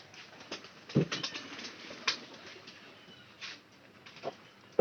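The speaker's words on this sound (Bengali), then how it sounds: "সব কবুতর আসলে এগুলো কবুতর আমাকে দেখা একটু একটু ভয় বেশি পায়" Pigeons coo softly in a pigeon house on a rainy day, giving a few low, throaty coos and rustles at intervals against a quiet background, with no talking.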